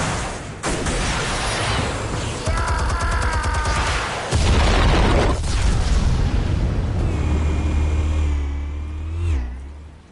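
Explosives detonate in heavy booming blasts with rumbling low-end roar, several loud bursts overlapping across the scene alongside engine-like revving and whining tones, no talking.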